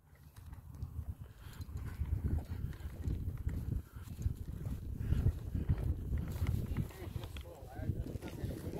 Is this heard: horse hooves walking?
yes